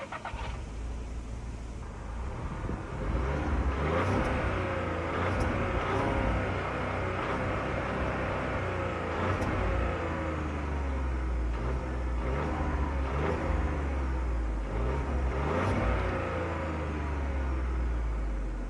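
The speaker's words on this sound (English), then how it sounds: "although I will start it up and rev it anyway" A 2020 Volkswagen T-Cross R Line crossover engine starts up and idles, then revs several times in rising and falling sweeps, a modest, muted hum recorded close by without talk.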